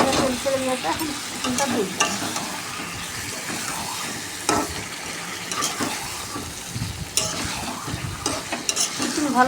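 Chicken stirred and fried in spiced oil sizzles steadily at close range, with repeated scraping stirs and clinks of the spoon against the pan throughout.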